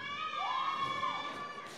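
A Belgian crowd at a cosplay convention lets out one long, sustained unison shout lasting over a second, steady and somewhat distant, with a rougher burst of noise at the end.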